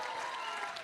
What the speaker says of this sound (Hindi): ताली बजाओ इन लोगों के लिए एक बार, दोनों के लिए।